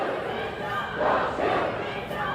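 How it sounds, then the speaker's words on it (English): A young protest crowd at a George Floyd rally in Freehold, many holding signs and chanting in unison, heard as a rising and falling swell of massed voices a short distance off. "Just about everyone with a sign chanting in unison, hands up, don't shoot right now."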